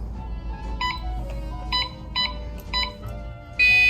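A phone alarm beeps in short repeated electronic bursts, several evenly spaced pulses over a low background hum, ending with a louder sustained tone.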